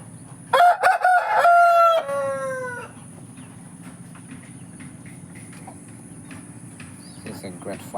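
An Aseel rooster, a fighting fowl breed, crows loudly up close in one drawn-out cock-a-doodle-doo lasting about two seconds, followed by quieter ambient noise.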